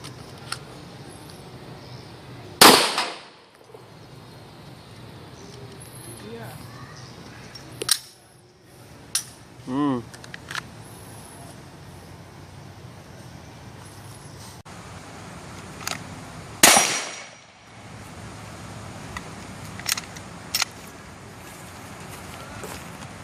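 Two sharp, loud gunshot reports ring out about fourteen seconds apart, each with a short decaying tail, set against low outdoor background noise with scattered faint clicks.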